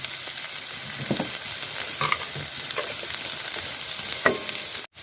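Ingredients for paneer fried rice sauté in hot oil, a continuous dense sizzle with occasional stirring scrapes, close and fairly loud throughout.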